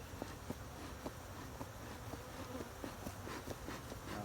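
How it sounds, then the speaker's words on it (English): Honey bees buzz densely around an open hive during an inspection, a continuous close drone with individual insects passing near, plus faint regular ticking or tapping underneath. "Buzzing me like crazy."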